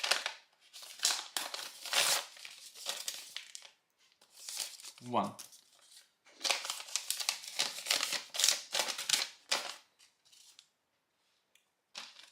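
A Leatherman knife, just sharpened with a Selectool sharpener, slices through a sheet of paper in several scratchy, crinkling cutting strokes, close up, with someone briefly speaking between the cuts.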